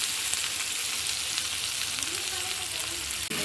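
Prawn head fat fries in a pan with a dense, constant sizzle and crackle that stays close and even throughout, followed by one short dip near the end.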